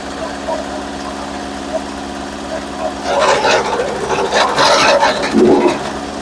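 A tractor engine drones steadily, then roars louder and rougher as it takes on load while gathering firewood, with a deeper labored rumble near the end.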